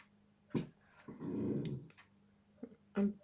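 Dog growling indoors, with a long low rumbling growl in the middle, brief snorts and whimpers around it, and a faint equipment hum in the background.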